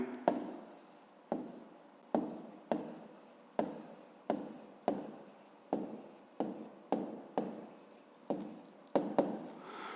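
Numbers are written by hand for a fifth-grade maths exercise, a quick series of close, dry scratching pen or pencil strokes, each short stroke followed by a brief gap, steady and unhurried with no talk.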